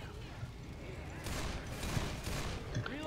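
Magnum pistol fire in the zombie shooter Left 4 Dead 2, a few sharp shots punching through constant game noise and chatter, with players talking over it.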